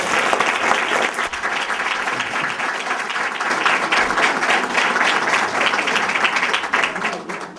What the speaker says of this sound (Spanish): Un aplauso, le pido un aplauso para él.